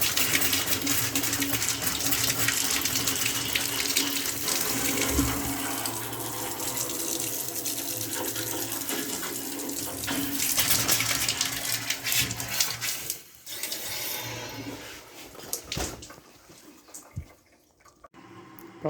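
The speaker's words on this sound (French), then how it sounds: "on ne laisse pas ouvert robinet à complet les amis, on va le laisser à moitié" A faucet runs at high pressure during lead pipe column replacement, a loud, continuous gushing rush that later turns more broken and splashy before tapering off.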